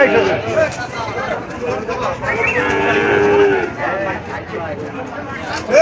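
Cattle at a busy livestock market in Jashore low and moo repeatedly, loud and close, amid a dense hubbub of people talking and bargaining.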